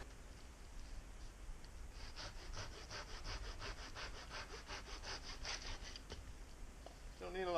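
Firewood being sawn for a small cooking fire at a camp, with a steady run of rhythmic back-and-forth saw strokes for several seconds, fairly close and alone before stopping.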